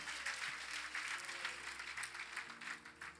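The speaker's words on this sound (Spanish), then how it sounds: "Aplaude al Señor, aleluya." A church congregation claps in praise during a service, a broad wash of applause with a quiet, somewhat distant feel that lasts the whole moment.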